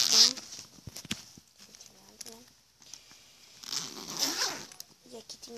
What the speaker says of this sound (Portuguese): e aqui tem um zíper grande